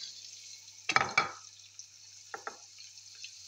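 Cabbage stir-fried in a pan for Filipino pansit guisado with sardine: a steady faint sizzle under a few brief scraping stirs of the utensil.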